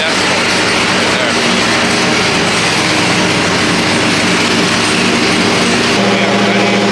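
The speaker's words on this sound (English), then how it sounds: "the car's just idling at 91 decibels" A Corvette engine idles on a dyno at about 91 decibels, a loud, steady broadband roar with a constant low drone that shifts slightly near the end.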